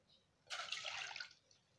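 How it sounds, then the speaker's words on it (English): Stock poured into a cooking pot on a gas stove, a soft splashing gush lasting under a second, close by and otherwise quiet. "Now on the gas and now pour the stock."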